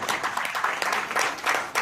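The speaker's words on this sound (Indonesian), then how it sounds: "kasih tepuk tangan." A seated business-presentation audience gives a short burst of applause. The clapping is dense and fairly loud and runs throughout the brief moment, with no speech on top.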